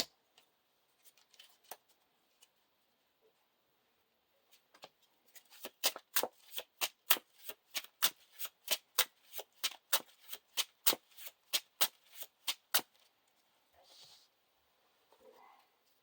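A deck of cards for The Lord of the Rings card game is riffle-shuffled, giving a fast, even run of sharp flicking clicks that lasts several seconds, with quiet handling noises before and after.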